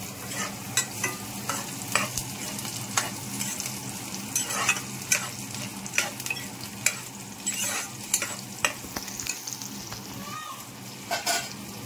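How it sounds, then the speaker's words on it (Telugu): Onions and green chillies sizzle with cumin in a pan under a steady crackle. Regular stirring scrapes and taps sound close by. "ఆనియన్స్, పచ్చిమిర్చి వేసేసిన అవి మగ్గుతుంటాయి."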